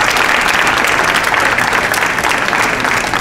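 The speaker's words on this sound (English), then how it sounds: "Let's give the Minister another big round of applause." Loud, dense applause from an audience at a university funding announcement, continuous and steady throughout with no gaps.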